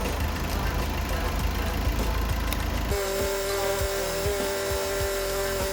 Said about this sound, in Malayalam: ഓക്കെ, നമ്മൾ വാഹനം സ്റ്റാർട്ട് ആക്കിയിട്ടുണ്ട്